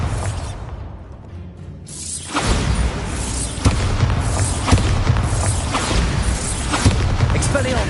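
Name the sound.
Bombarda blasting spell explosion from video game Hogwarts Legacy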